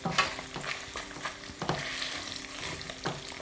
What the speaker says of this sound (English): So you just leave it fry off, render the fat.